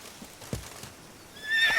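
A horse neighs briefly in The Witcher 3: Blood and Wine, a short whinny over faint hoof thuds, fairly close and clear with no talk.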